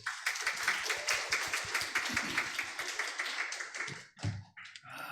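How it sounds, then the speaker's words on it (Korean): Congregation at an Easter Sunday morning church service clapping together in a brisk, fairly even rhythm of distinct claps for about four seconds before it stops and a few faint sounds follow. "박수 한번 해주세요."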